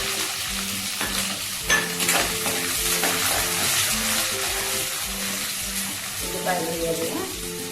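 Onions fry in hot oil for a fish curry, a steady close sizzle broken by repeated scraping and clinking stirs of a spatula against the pan, no speech.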